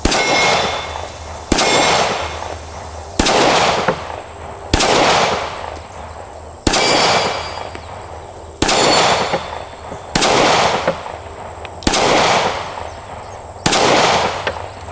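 Springfield pistol firing at target practice, a series of about nine loud, sharp shots spaced roughly every one to two seconds, each with a ringing decay.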